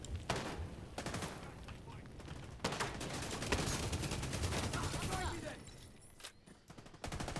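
Rapid gunfire bursts from a hard-hitting predator build in The Division 2, crackling loudly and nearly nonstop in close, dense volleys, with someone talking over the shooting.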